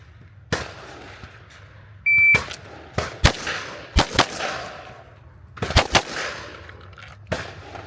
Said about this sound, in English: we're gonna step, shoot one, shoot two, and then come back over and shoot two